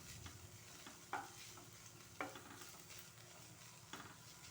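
Sauce for hotel-style fried rice, made with red chilli sauce, cooking in a pan: a faint, steady sizzle with a few soft utensil clicks and no talk.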